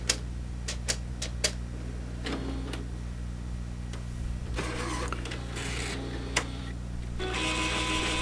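An Epson R2400 inkjet printer feeds roll paper with a steady mechanical whir and hum, broken by several sharp clicks and ticks, then a louder motor push near the end, close up with no talking.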